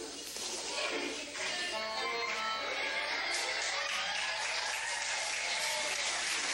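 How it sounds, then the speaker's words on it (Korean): Audience applause greeting a mime performer playing a wealthy character, at a church report on a short-term mission trip to Indonesia; dense, steady clapping fills the whole stretch with no talk over it. "박수를 칩니다."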